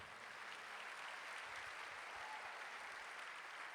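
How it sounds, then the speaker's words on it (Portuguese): A church congregation claps at a Sunday family worship service, a dense, even wash of applause sustained throughout at a moderate distance with no voices on top. "Quem pode dar um aplauso aí ao Senhor?"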